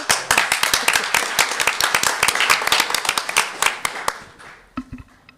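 A school board meeting audience gives a round of applause, crisp close claps from a modest crowd that thin out and stop after about four and a half seconds.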